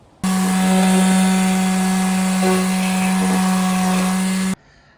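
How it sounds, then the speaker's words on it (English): A mouse sander rounds and flattens the edges of First Order armour shoulder bell pieces, a loud, close, steady buzzing whine with a strong hum that starts abruptly and cuts off sharply after about four seconds. "address it with this mouse sander and just flatten them off, round it off"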